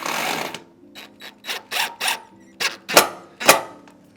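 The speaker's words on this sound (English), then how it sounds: "we're just gonna screw these in here" A power drill drives screws into a gear panel trim piece on a Revel 21+, a series of short whirring bursts in a stop-start rhythm, close and fairly loud.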